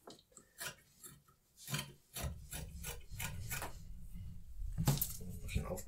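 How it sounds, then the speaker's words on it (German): A blade trims cured laminate flush along the edge of a mould for an F3K glider, a steady close rasping scrape after a few short strokes, with no talking. "Ich schneide das bündig."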